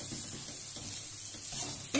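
Green peas roasting in a pan for matar nimona, stirred slowly with a ladle over medium heat: a continuous soft sizzle with faint scraping, close and fairly quiet, with no talk.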